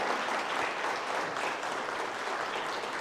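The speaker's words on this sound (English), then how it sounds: "Let's give Cynthia just a round of applause here for sharing with us today." A lecture audience gives a steady, even round of applause for a guest speaker, a dense wash of clapping that holds at a constant level throughout.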